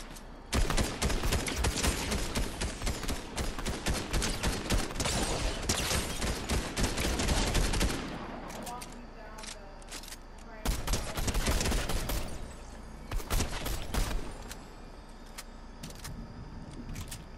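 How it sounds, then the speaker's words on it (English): Rapid bursts of gunfire from a Fortnite Zero Build match, a dense fusillade for about eight seconds followed by shorter, scattered volleys, loud and close, with a player's voice faintly under the shots. "Oh, I just got shot at."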